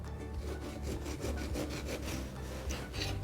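Lemon skin is peeled into long strips by hand for an egg custard dessert, giving a soft, continuous close rasping and scraping with faint repeated strokes, and no talk.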